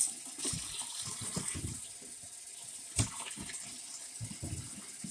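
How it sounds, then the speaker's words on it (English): Raw shrimp are rinsed under a running kitchen tap, with a steady hiss of flowing water and a soft splash and slosh of the shrimp being moved through it, plus a brief knock midway. "And then we rinse again."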